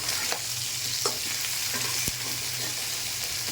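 A rohu fish head frying in hot oil until crisp, giving a steady close sizzle and crackle with occasional small pops and a light utensil tap, and no talking over it.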